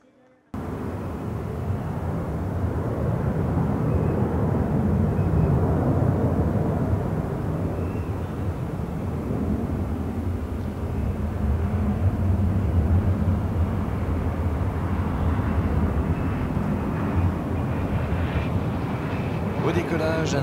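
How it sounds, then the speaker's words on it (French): A loud, continuous roar of a new-generation multimission military transport jet taking off at a flying display, rumbling steadily throughout, heavy and low. "Au décollage, un avion de transport multimission de nouvelle génération"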